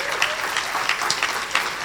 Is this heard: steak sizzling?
no